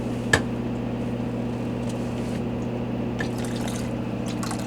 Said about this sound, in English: we're going to take the pretty hot water, and we're going to combine it with the cold water from in here